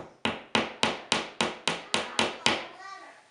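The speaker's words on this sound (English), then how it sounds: "Push them in place, and just tap it in with a hammer." A hammer taps picture hanger pins into a wall: nine sharp, evenly spaced strikes in a quick steady rhythm, close and clear, with a brief ringing tail after the last blow.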